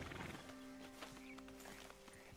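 A horse in the video game Red Dead Redemption 2 clip-clops and snorts nearby, with soft hoof steps and breathy, tonal vocal sounds over a quiet outdoor backdrop.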